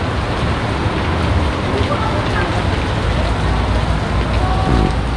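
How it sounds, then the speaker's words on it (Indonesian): Heavy rain pours at Blitar Park amusement park, a loud, dense, continuous hiss with faint voices and scattered background sounds beneath it. "Tapi hujan belum ada tanda-tanda mereda ya"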